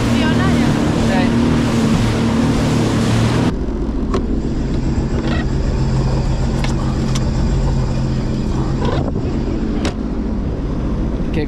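A repaired jet ski engine idles and revs with a steady motor drone, wind buffeting the microphone, and a few clanks and splashes near the water.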